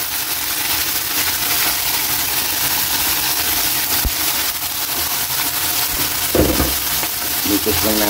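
Native chicken pieces frying in a pan with garlic and onion, a steady loud sizzle with stirring scrapes throughout and a few heavier clatters near the end.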